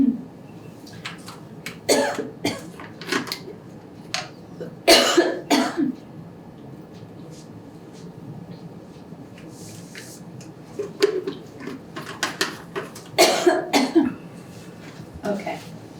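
Several people cough and clear their throats during a town selectboard meeting in Guilford, with scattered bursts of coughing spread across the stretch at close range.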